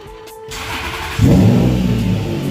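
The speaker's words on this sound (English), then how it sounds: "it runs great now. Starts up pretty much instantly." A car engine cranks briefly, then catches and fires up, settling into a loud, steady running rumble close by.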